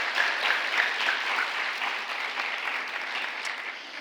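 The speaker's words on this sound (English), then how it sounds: "Let's give them all another big round of applause." Symposium audience gives a sustained round of applause, steady dense clapping from a crowd that fades slightly toward the end.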